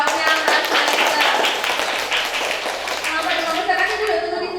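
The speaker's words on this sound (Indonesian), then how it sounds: "teman-teman semuanya kasih tepuk tangan buat kelompoknya Mas Michael" Classmates in a fifth-grade science lesson applaud a student group, a dense patter of many hands clapping steadily throughout, with a teacher's voice and some chatter mixed in.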